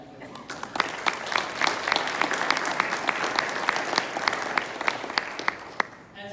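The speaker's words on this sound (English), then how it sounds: "So I want to give you a round of applause for yourselves if you would do that for me." Audience at an Iowa AFL-CIO gathering claps steadily for several seconds, a dense, sustained applause with sharp individual claps standing out near the listener.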